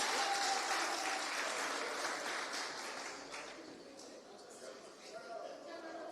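A crowd applauding at a land titling ceremony, dense clapping that starts strong and gradually thins and fades over several seconds, heard from within the gathering.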